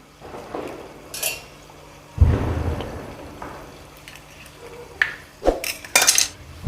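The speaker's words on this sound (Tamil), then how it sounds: "இப்போ இந்த நம்ம முட்டையை நம்ம ஃபர்ஸ்ட் அடிச்சுக்குறோம்" A single egg beaten in a bowl, with close bursts of clinking and scraping as a utensil strikes the sides, heavier clatter in the middle and quick rattling strokes toward the end.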